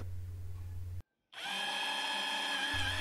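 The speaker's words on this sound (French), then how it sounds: "Je visse le support sous la gouttière juste au-dessus de la caméra" A power drill drives screws to fix a camera mounting bracket under a house gutter for a Reolink Duo 2 wireless camera; after a low hum and a brief silence, a close, high motor whine runs for under two seconds.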